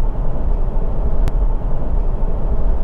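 From inside a Toyota or Lexus 4x4 with an automatic transmission and an aftermarket torque converter lockup, the engine holds a steady, smooth rumbling drone while the vehicle accelerates through the upper gears, with no voices heard.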